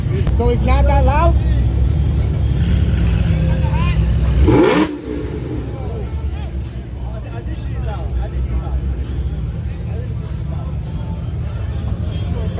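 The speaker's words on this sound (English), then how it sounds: "Got the Testarossa here, the OG." Ferrari Testarossa, the original old-school model, at a supercar show, its engine rumbling and revving steadily and loud close by amid crowd noise and talk, with a sharp burst near the middle before the level drops slightly.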